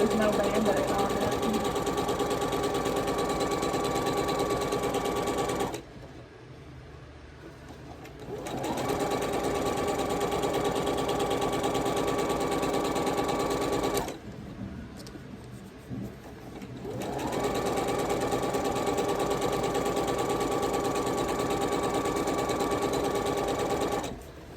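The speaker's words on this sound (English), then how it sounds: "These long stripes are taking a hot minute to sew" Sewing machine stitching long fabric stripes, running in a steady, loud mechanical whir with a regular needle rhythm that pauses twice for a few seconds before resuming.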